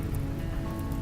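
Steady rain falls in the video game Rimworld, a dense, continuous patter filling the whole moment, loud and close with no voices.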